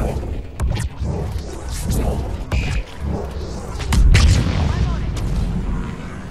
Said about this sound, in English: Warp! Explosion!